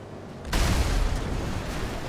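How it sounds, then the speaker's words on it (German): A deep, booming explosion in GTA V Online erupts suddenly about half a second in, then a dense low rumble holds steady to the end, with no talk. "wieder irgendjemand explodiert?"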